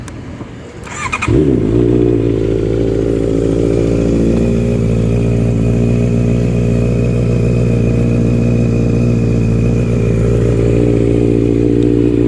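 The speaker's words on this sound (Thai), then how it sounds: "ฟังเสียงเครื่องยนต์ครับ" A 2019 Honda CBR650R motorcycle engine starts up and settles into a steady, loud idle close by, running continuously with a slight rattle.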